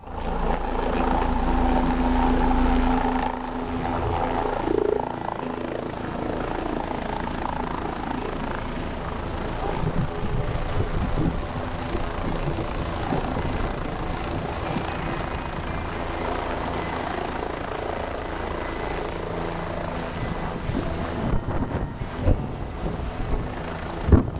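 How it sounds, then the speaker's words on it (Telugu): Helicopters flying at the mountain shrine of Kedarnath make a continuous rotor drone that is loudest at the start, then steadies into a distant rumble with wind noise over it. "అప్పటికే హెలికాప్టర్లు కూడా స్టార్ట్ అయిపోయాయి"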